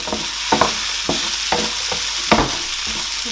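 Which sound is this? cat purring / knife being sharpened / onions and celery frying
onions and celery frying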